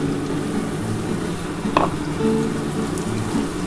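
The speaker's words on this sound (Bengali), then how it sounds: "একটু ভালো করে কষিয়ে নিই তবে খুব বেশি কষাবো না" Eggplant and potato with mustard paste sautéing in a pan, a steady close sizzle and frying crackle with a soft stir or scrape near the middle.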